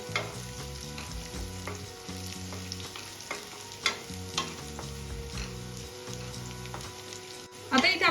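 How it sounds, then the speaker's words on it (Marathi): Onion and green chillies sizzle in a hot pan as a spatula scrapes and stirs them, with steady frying hiss and several sharp clinks of the utensil against the pan, no voices. "आता इथे आपल्याला मिरची पण छान परतून घ्यायची आहे"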